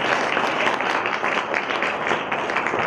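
An audience at a book launch claps after a reading, a steady burst of dense, continuous applause from a room of people, fairly close and even throughout.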